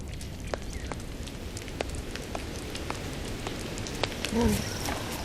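Light rain falls steadily in a savanna landscape, with scattered drops ticking over a soft continuous wash, heard alone at low level with a brief animal call near the end.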